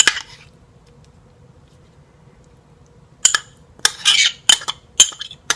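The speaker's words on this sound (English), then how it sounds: "I'm going to spoon my spice mixture all over the pork, and then we're going to work that in a little bit" A spoon works spice mixture into raw pork sausage in a bowl, clinking and scraping in a quick cluster of knocks after a long near-silent stretch.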